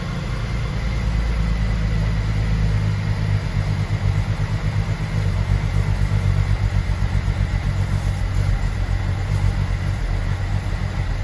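A BMW 335i engine turns over after a MOSFET repair and settles into a loud, uneven rough idle, its low rumble pulsing and stumbling steadily with no voices.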